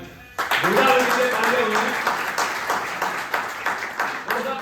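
Audience at a Vaishya community convention in Guna, Madhya Pradesh, breaking into a burst of clapping that starts abruptly and stays steady, with a loud voice speaking over the applause through most of it.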